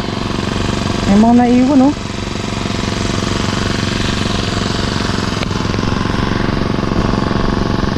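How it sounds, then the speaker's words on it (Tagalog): A grass cutter runs loud and close, its engine droning without a break through the whole stretch while a person speaks briefly over it early on. "Grass cutter."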